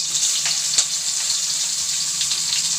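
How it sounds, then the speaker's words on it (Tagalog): Garlic and onion sautéing in hot cooking oil give a steady, bright sizzle with a few soft pops, close and constant, and no voices. "Guys, mainit na yung ating mantika. Gisa na natin tong bawang, sibuyas."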